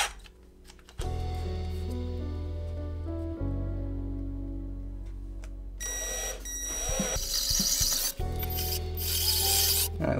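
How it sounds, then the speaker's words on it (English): A power drill bores a larger hole for a homemade overhead camera rig, a steady motor whine that shifts pitch partway through, then grinds harder and brighter as the bit bites, close and loud. "So I'm just going to go ahead and drill the bigger holes."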